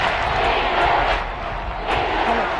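A stadium crowd roars in a Madden football game, a loud, dense, continuous wash of cheering that swells slightly at times.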